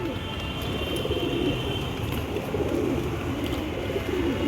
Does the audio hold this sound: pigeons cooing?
yes